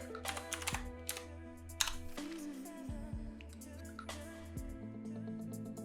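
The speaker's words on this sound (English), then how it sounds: "So just type it in." Computer keys clicking as a password is typed on a Windows machine, several quick close taps in small bursts over a steady background tone.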